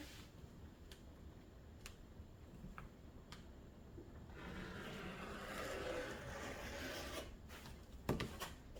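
A rotary cutter rolling along a board to trim a diamond painting canvas gives a soft, quiet rasping stroke lasting a few seconds, preceded by faint scattered clicks and followed by a sharper tap.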